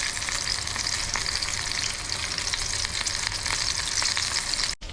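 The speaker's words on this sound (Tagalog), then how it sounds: "habang piniprito natin yung ating salmon" Salmon frying in a pan sizzles loudly and steadily at close range, a dense continuous crackle with faint stirring clicks and no voices.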